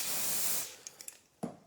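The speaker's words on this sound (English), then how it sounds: "Okay, so I'm using spray foundation" Spray foundation misted from a can for a makeup application, a steady close hiss lasting about half a second, then several brief faint puffs and one sharper final burst.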